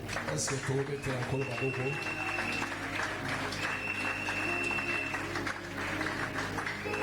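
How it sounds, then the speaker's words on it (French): A church congregation at a Friday worship service applauds and acclaims God with sustained, steady clapping that fills the room, mixed with voices and musical tones. "Est-ce qu'on peut acclamer notre Dieu?"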